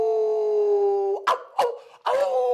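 A man imitates a wolf, holding a long, steady howl and then breaking into three sharp, loud vocal barks, close up and alone.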